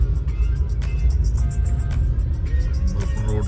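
A car rolls slowly along a road under construction between Goa and Pune, giving a steady low engine and tyre rumble with faint clicks and rattles and no pauses.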